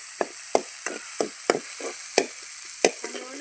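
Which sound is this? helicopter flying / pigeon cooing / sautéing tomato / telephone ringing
sautéing tomato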